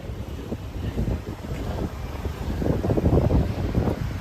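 Warm breeze gusting through Legian, Bali on a hot, sunny day, buffeting the microphone as a continuous low rumble that swells in uneven gusts and grows stronger toward the end, with no voices.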